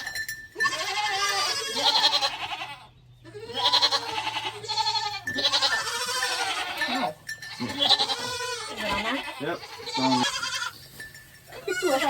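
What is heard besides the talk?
goats bleating during banding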